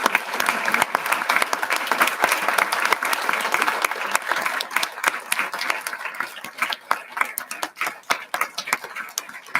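An audience at a school board of education meeting gives a sustained round of applause, dense clapping at first that thins into scattered individual claps, fairly close and loud.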